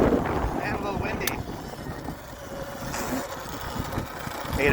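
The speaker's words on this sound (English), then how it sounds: "And a little windy." Steady wind buffeting a microphone on a trail ride with a 2022 Sur-Ron X electric bike, with a low rumbling roar throughout and brief voices in the background.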